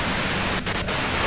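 Dense white-noise static from the Disco Elysium video game hisses loudly and evenly throughout, broken only by two very brief dips.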